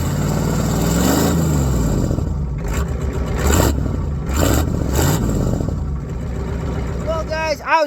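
A 7.3 IDI diesel engine with a cut-off exhaust runs loud and close, a rough, steady rumble that surges briefly in the middle before settling back.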